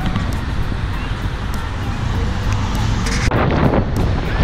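Wind blowing outdoors on a mild day in Chicago, a loud continuous rushing buffet across the microphone that swells near the end, with faint background noise and no clear talk.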